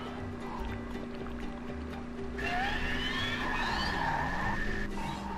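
Game vehicle in The SpongeBob SquarePants Movie video game braking hard while nitro boost is engaged, a skidding screech with rising whine layered over a steady engine drone and background game music.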